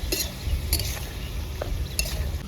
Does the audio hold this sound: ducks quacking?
no